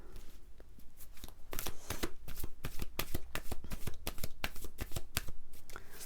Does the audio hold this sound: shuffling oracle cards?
yes